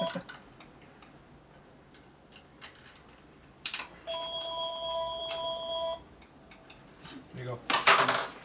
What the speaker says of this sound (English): Damn phone started ringing a lot now.